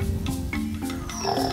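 A parrot at a safari park imitates a pig's snort, giving a few short grunting, oinking bursts close to the microphone with no talk over them.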